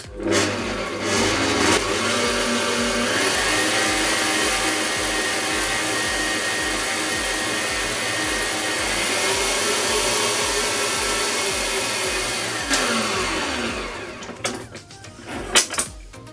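A motorized mixer churns caramel into homemade ice cream, giving a loud steady whir that runs continuously before slowing and rattling to a stop near the end.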